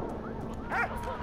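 Dog barks and yips in the Valiant Hearts: The Great War video game, a short faint bark over a low game background, with a player's voice murmuring.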